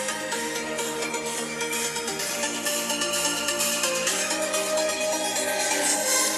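Loud, full music blasting from the four small speakers of a Samsung Galaxy Tab S6 at maximum volume, dense and steady throughout with bright treble and a constant thick mix, no pauses.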